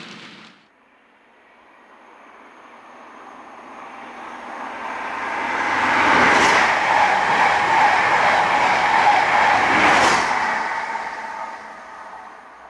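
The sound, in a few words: model trains running on a model railway layout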